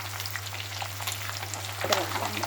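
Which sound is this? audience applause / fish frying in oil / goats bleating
fish frying in oil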